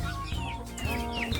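Chickens cluck close by in a pen beneath a Jamaican cherry tree, a short burst of overlapping clucks and low calls against a steady background.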